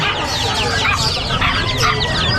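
Asil chicks and chickens at an outdoor pet market in Calumpit chirp and cluck densely and loudly, with many overlapping high peeps close by and a faint murmur of people in the background.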